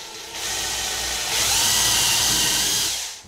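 A power drill bores holes for door hinges during a door installation, its whine close and steady and rising in pitch partway through the short burst. No one speaks.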